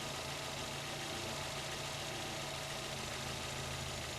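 Steady, even hum of a car engine idling nearby, with a constant low rumble and no other sounds or voices.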